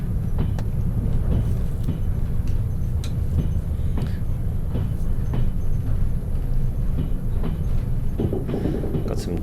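In the Trans-Siberian Railway Simulator video game, a train engine runs with a steady low rumble and rattling rail noise, scattered clicks and knocks on top, while someone talks over it.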